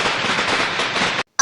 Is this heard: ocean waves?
no